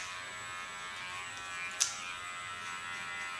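Electric hair clipper running close to the head while cutting hair: a steady high buzz with a short sharp click partway through and no voices.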